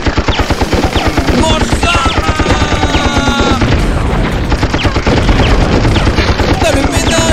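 Rapid, sustained machine-gun fire in the video game Wild 9, loud and continuous with rhythmic bursts layered over booming effects, while a voice speaks briefly over the shooting.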